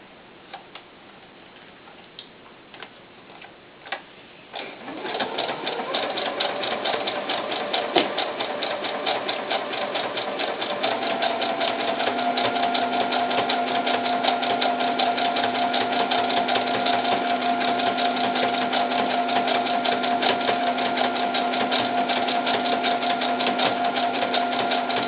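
A home sewing machine runs a knit stitch along the seam of knit leotard fabric, starting after a few seconds of quiet and then whirring steadily and close for about twenty seconds with no voices.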